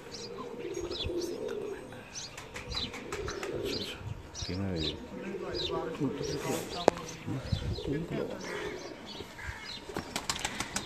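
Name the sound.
champion racing pigeons cooing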